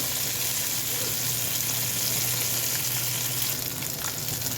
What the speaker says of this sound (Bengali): মাছটা ভেজে নিতে হবে